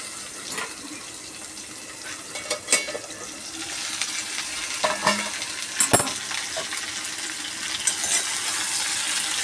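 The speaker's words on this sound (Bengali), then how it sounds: "আর এখানে হচ্ছে আলু ভাজা" Potato slices frying with green chillies in a pan in a home kitchen, a soft continuous sizzle broken by scraping stirs and occasional sharp clinks of a utensil against the pan, close and fairly quiet.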